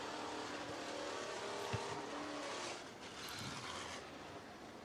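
Race cars roar around the I-75 Raceway dirt track in Niota, Tennessee, a steady loud blend of engines running continuously with a brief sharp spike partway through and a slight dip near the end.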